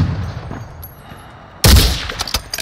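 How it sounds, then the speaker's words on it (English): Explosive rounds fired from a gun in the video game DMZ, a sudden loud burst of rapid cracking shots after a quiet stretch, crackling on like fireworks to the end. "They're like exploding into like fireworks or something. Yeah, it's explosive rounds."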